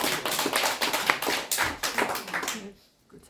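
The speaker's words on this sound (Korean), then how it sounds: "박수 한번" Audience clapping at a seminar, a short burst of distinct nearby hand claps with a faint voice mixed in, stopping abruptly into near silence.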